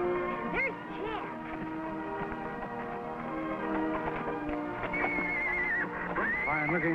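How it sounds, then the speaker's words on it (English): A horse neighs and whinnies several times in a rural herd setting, with loud rising and falling calls over light background noise and a few hoof clops. "Fine-looking horse."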